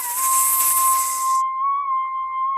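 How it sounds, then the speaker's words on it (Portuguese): A snake in an animated animal story hisses in a loud, breathy burst lasting over a second, with a steady whistling tone running underneath that carries on alone after the hiss stops. "e a cobra"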